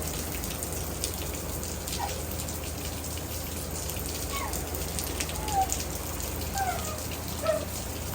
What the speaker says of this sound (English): It's just raining now, y'all.